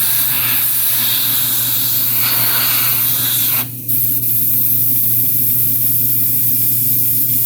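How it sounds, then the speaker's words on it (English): An airbrush spraying paint onto a Colossus miniature gives a loud, continuous close hiss with one brief break midway, then steady spraying resumes. "Again, my airbrush is acting up, which I just cleaned."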